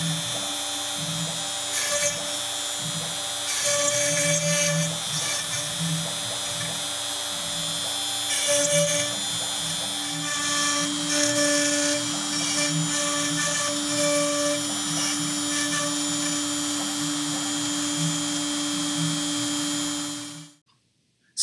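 An X-Carve CNC machine engraves a design into a guitar top, giving a steady high-pitched whine with a motor hum that rises and falls in short passes. It runs alone, close and fairly loud, and cuts off abruptly near the end.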